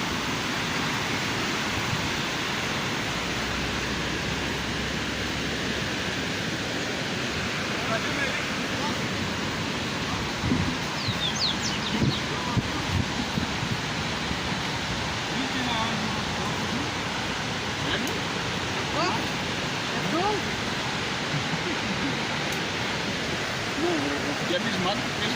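A waterfall at Cascata in Nova Friburgo, a steady broad rushing roar of falling water with some wind buffeting, with people talking faintly over it at times.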